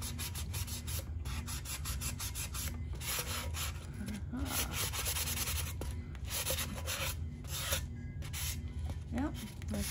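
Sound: sanding a Halloween tumbler with a sanding block

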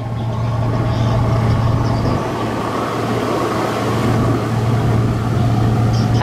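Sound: fishing boat engine running during test run

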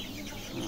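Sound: chickens clucking

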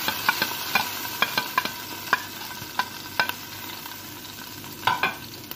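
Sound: garlic frying in a pan

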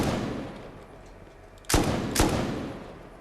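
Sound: gunfire shooting at a garage door in the video game Rust

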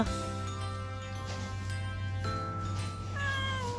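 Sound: cat meowing

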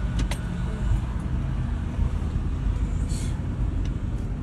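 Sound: white car pulling out

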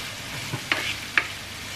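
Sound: onion and garlic frying in hot oil in a pan

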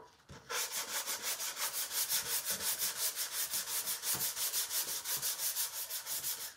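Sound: sanding with sandpaper

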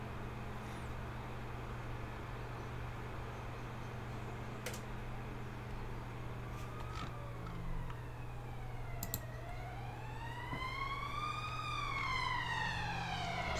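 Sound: siren

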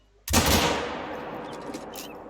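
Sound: hunting rifle shot in video game theHunter Call of the Wild

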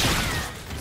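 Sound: weapon switch in video game Call of Duty Infinite Warfare

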